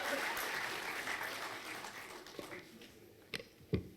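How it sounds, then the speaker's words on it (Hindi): Faint applause from an audience at an ethics camp gathering, a soft continuous patter of clapping that fades over a few seconds, followed by a couple of isolated knocks and thumps. "तालियां बजा दीजिए आप सभी वक्ताओं के लिए।"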